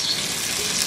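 Potatoes and ginger frying in a pan on low heat for a Bengali vegetable chorchori, a brief, steady, close sizzle.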